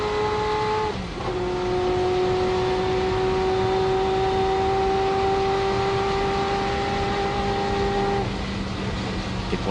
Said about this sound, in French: nous voici à bord de la voiture de Michel Ferté, la Ferrari F40 LM